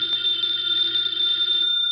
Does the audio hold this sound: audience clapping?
no